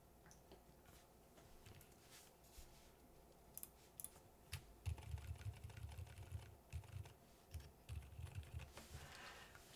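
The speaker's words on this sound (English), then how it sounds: "So this is a silent keyboard" Typing on a silent keyboard fitted with TTC Frozen switches in a Tofu TKL build, a faint, muffled patter of soft keystrokes that picks up into quick bursts in the second half.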